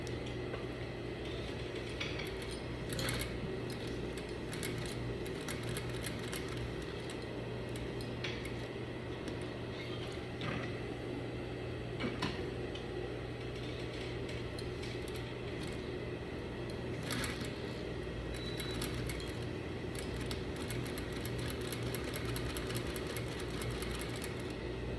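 A sewing machine top stitching around an unlined slit, running steadily at a close, continuous hum with faint clinks throughout, easing off as it slows near a corner.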